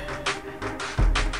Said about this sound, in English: It's now ringing.